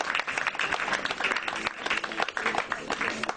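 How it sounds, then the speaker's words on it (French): Church congregation applauding and cheering loudly for the Lord, dense clapping with shouts and voices mixed in, close and continuous. "Est-ce qu'on peut acclamer très fort le Seigneur bien-aimé?"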